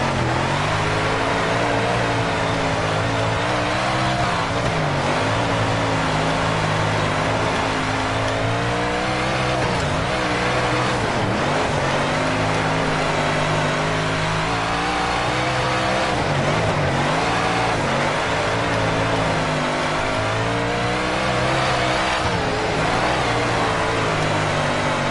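Sprint car engine in a World of Outlaws dirt racing game, revving loudly and continuously for the whole stretch, with steady harmonic drone and occasional tire squeal or skidding in the mix, no talking.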